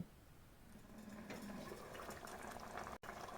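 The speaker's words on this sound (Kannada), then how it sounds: "ನೋಡಿ, ಕುದೀತಾ ಇದೆ." A Kerala-style fish mango curry boils in a pan, giving a soft, steady bubbling and simmering hiss, heard close but quiet for a few seconds.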